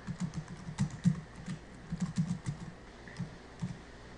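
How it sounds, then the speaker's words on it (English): Light, steady typing on a computer keyboard, soft quick keystrokes in an irregular patter, close and alone with no talk. "Type in the current date."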